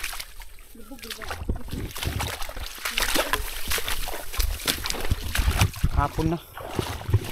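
Bangka boats move through high, rising water, with close sloshing and splashing running under steady talk from people nearby.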